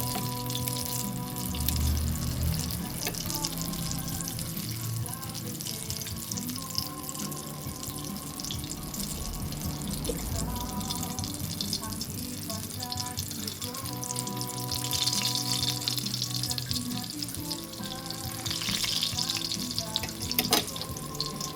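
Eggplant omelette (tortang talong) frying on low fire in a pan, a steady watery sizzle running continuously and fairly loud, with faint background music or noise and no talking.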